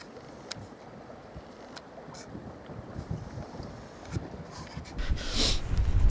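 Steady wind rushing and buffeting against the microphone at a lakeside while fishing in October, growing louder and gustier toward the end, with faint water noise underneath and no talking.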